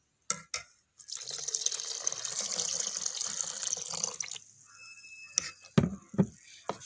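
Thin coconut milk, the second extract, is poured into a cooking pot with a steady splashing flow of about three seconds, followed by a few close knocks and clinks.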